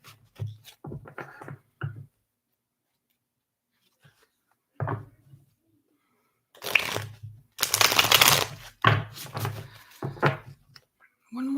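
Tarot and fortune cards being shuffled by hand in several bursts of riffling and flicking, close and fairly loud, separated by quiet pauses.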